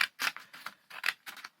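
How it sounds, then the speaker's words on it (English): Scissors snip through folded paper for a paper-weaving craft, a quick run of about six crisp cutting strokes, close and fairly quiet. "I'm going to cut straight up the center"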